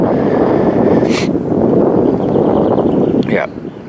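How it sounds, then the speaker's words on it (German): Strong wind buffeting a microphone outdoors on a walk through a gorge area, a constant loud roar with gusty swells throughout and brief higher hissing bursts. "Der Wind ist jetzt auch nicht ganz ohne."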